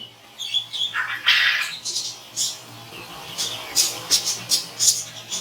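Birds in pigeon pens on a bird farm give repeated bright chirps and squawks in uneven bursts, fairly close and loud, with no talking.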